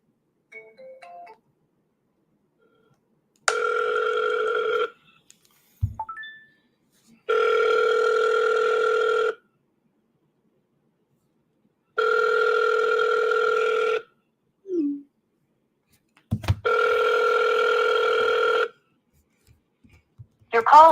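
An outgoing telephone call rings back in four evenly spaced two-tone bursts, each about two seconds long, clear and close, with brief clicks and handling noises between them.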